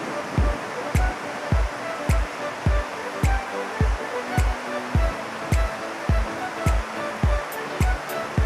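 A river flows through a small gorge in a remote Caucasus valley in Georgia, giving a steady, close rush of water broken by regular low thumps.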